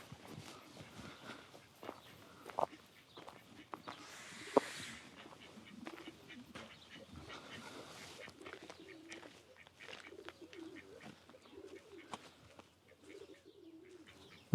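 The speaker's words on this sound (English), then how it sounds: "Duck and pigeons." Pigeons coo and birds chirp outdoors at a Tuscan borgo in the Chianti countryside, with footsteps crunching nearby and a couple of bursts of wing flapping, all fairly faint.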